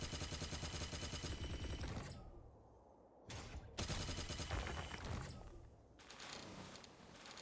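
Rapid automatic gunfire in the video game Palworld, a dense, continuous burst of shots with mechanical rattling that stops briefly, then resumes in loud stretches.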